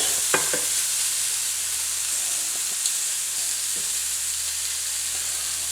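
Blackened shrimp with garlic sizzling in a pot, a close, steady hiss of frying with occasional clicks and scrapes of stirring and no talking.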